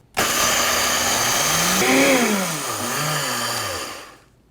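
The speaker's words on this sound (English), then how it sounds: "So I'm just going to dump these right into my blender and then blend it for a few seconds." A countertop blender grinding old-fashioned or quick oats into fine flour, starting abruptly and whirring loudly for about four seconds with the motor pitch sliding down and up as it works, then cutting off.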